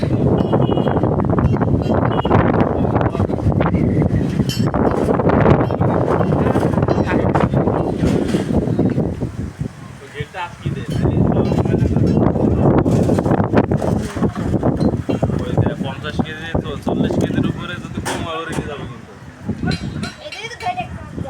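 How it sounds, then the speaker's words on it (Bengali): Strong storm wind during rain roars and buffets the microphone almost continuously, easing briefly now and then, while a voice speaks beneath the gusts. "কি সুন্দর বাতাস,"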